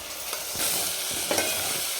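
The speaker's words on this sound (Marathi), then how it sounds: "आणि याला पण आपल्याला 2 मिनिट छान परतून घ्यायचं" Mutton masala paste stirred and sautéing in hot oil in a pan, a steady soft sizzle with scraping stir strokes, close and alone.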